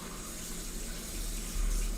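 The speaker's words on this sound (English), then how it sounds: "If you hear the water boiling" A pot of water boiling nearby gives a steady, moderately loud rushing hiss with a low rumble that swells slightly toward the end, with no voices over it.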